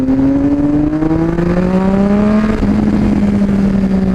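A Triumph Speed Triple RS motorcycle accelerates hard, loud and close, its engine note climbing steadily, then dropping at a gear change before pulling upward again, all over heavy rushing wind.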